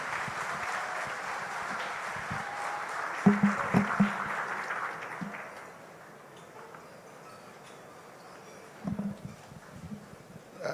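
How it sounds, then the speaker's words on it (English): Moderate audience applause at a conference event fades out midway, followed by a quiet lull, then a few scattered claps and knocks near the end. "Applause, please."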